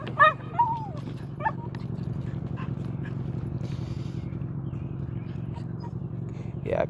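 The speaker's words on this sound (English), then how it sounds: "And my dog wanted to talk to them." A dog barks and whimpers at a group of men walking past on a street, a couple of sharp yips and whines up close at the start and again at the end over steady traffic rumble.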